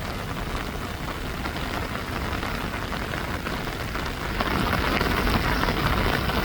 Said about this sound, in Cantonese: 今日落雨。